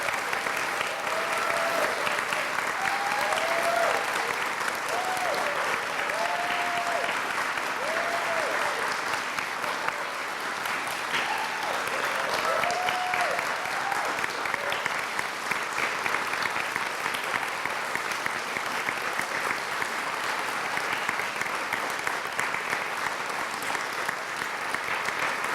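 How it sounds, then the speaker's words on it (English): An audience applauding at a peacemakers' ceremony honoring the first Peace Laureate, steady, full clapping from a sizable indoor crowd that continues without pause, with a few faint voices rising through it. "Can we have a round of applause for her?"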